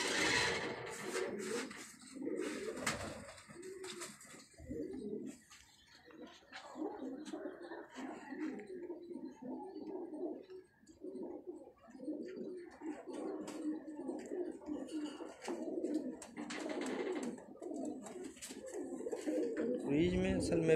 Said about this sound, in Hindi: और काफी ब्रीड कराया हुआ कबूतर है ये।